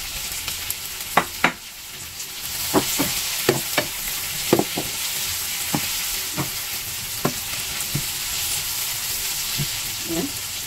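Mushrooms and onions sizzle steadily in a hot pan, with sharp scrapes and clacks of a spatula stirring at irregular intervals over the constant frying hiss.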